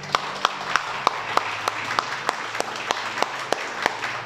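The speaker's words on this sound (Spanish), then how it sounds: "Un aplauso a nuestro Dios." A slow, steady series of single sharp claps, about three per second, over a faint murmur of background noise.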